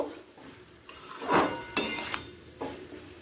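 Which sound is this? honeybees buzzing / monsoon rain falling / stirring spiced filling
stirring spiced filling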